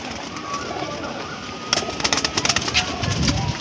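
Tournament-flying pigeons coo nearby, a quiet stretch giving way to a run of rhythmic, pulsing coos that grow fuller toward the end.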